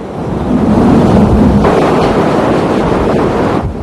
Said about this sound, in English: high winds helped push the storm surge into the hotel district